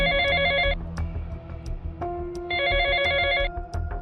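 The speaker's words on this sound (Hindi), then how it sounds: "फोन बजता है।" A telephone rings in two clear bursts in an elderly man's home in Philadelphia, the trilling bell loud and close with a pause between rings, ahead of a tech support scam call.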